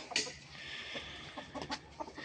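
Decorative rooster kept for sale, clucking faintly a few times at a moderate distance against soft background noise.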